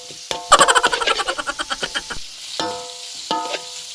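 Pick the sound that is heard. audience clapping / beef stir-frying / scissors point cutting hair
beef stir-frying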